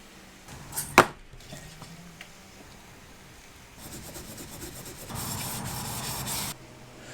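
Close rubbing and scraping by hand while polishing a silver bike frame, soft at first, then steadier friction that grows louder toward the end, with a sharp knock near the start.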